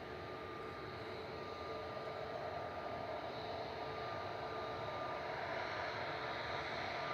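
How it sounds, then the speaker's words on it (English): An SAS Airbus A320neo on the Irish register runs its engines at Manchester Airport, a steady, fairly distant broadband roar holding level throughout with no talk over it. "SAS 542 heading back to Copenhagen. This is EISIJ on the Irish register. A320 Neo."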